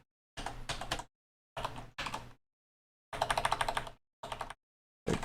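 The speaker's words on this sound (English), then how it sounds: "Typing here." Bursts of keyboard typing at a computer, close and clear, with quick clustered keystrokes in four separate runs split by short silent pauses.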